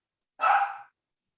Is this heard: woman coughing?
no